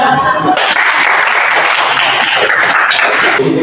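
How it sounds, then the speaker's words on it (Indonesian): A class of students claps together in a classroom, a loud, continuous burst of close hand claps that begins abruptly after a short spoken moment and runs steadily before tapering. "Silakan dulu tepuk tangannya."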